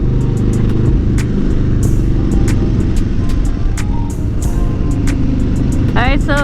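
A 2021 Harley-Davidson Low Rider S motorcycle being ridden, its engine rumbling steadily and loud throughout, with wind buffeting and a few brief sharp ticks over the drone.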